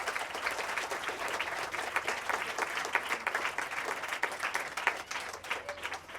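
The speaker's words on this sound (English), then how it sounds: "I want you guys to give a big hand to Famous" A crowd at a primary school donation event claps steadily for an honoree, a dense continuous patter of many hands at moderate distance with faint cheering mixed in.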